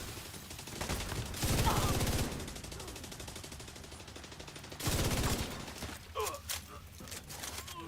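Bursts of rapid gunfire from a weapon in the video game The Division, loud and close, with a dense stutter early on and another burst later, surrounded by game ambience and scattered shots.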